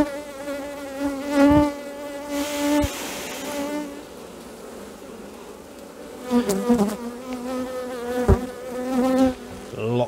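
Honeybees buzz steadily from an open hive with a laying queen on brood comb, a dense close drone rising and swelling in pitch as individual bees pass near.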